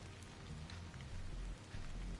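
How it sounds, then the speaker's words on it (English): Steady video game rain patters on a surface, a soft even hiss with occasional low rumbles beneath, fairly quiet and continuous. "This must be Earth's rain."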